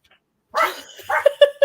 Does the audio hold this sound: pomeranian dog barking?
yes